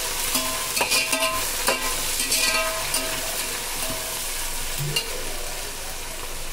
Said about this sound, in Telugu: ఇప్పుడు కొత్తిమీర, పుదీనా రెండు కలిపి వేసేసాను. దాంతోపాటుగా ఒకసారి కలిపేసుకొని